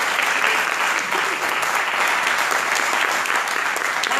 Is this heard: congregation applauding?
yes